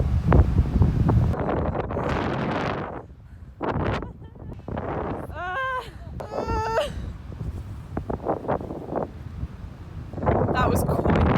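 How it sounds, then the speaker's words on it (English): Strong gusts on Bondi Beach batter the microphone in loud, uneven rumbling bursts with brief lulls, and short whining sounds come through in the middle. "the wind was awful and whipped sand in your face"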